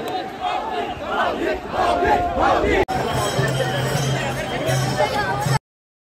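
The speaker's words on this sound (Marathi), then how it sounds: "गर्दी मित्रांनो" A dense crowd at the Sant Tukaram Maharaj palkhi procession in Pune, 2024, roars and chants close by in a continuous loud wash of voices, with a short cut near the middle and a steady low hum underneath later on.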